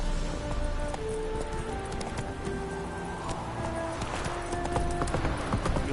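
Roach the horse gallops in The Witcher 3, with continuous rhythmic hoofbeats pounding close and steady over the game's ambient sound.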